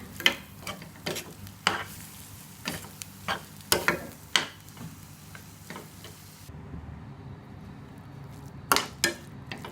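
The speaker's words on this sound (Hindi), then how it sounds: "इन सब मसालों को मिलाते हैं इसमें" A spoon stirs spices into a pan for masala egg curry, giving a series of irregular metallic clinks and scrapes against the pan with a faint sizzle underneath.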